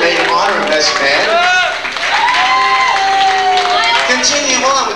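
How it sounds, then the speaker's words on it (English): Guests at a 1989 25th wedding anniversary party applaud and cheer for the maid of honor and best man, steady clapping and crowd noise running throughout under an announcer's voice. "Let's give them a nice round of applause, maid of honor and best man."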